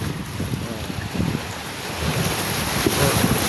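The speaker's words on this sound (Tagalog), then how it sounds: "Umuugong po ang alon." Waves roar and churn against a damaged flood control structure, a loud, rushing wash of surf with wind buffeting the microphone and swelling louder toward the end.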